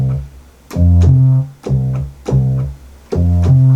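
Fretless bass patch from the Xpand!2 plugin playing a short line of round, sliding notes, about four phrases with gaps between, close and dry with no talking.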